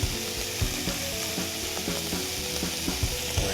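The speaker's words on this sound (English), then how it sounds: "So we're just going to render this bacon out here." Bacon rendering slowly in a pan, a steady close sizzle and crackle with a dense bed of popping fat and occasional faint clicks, no voices.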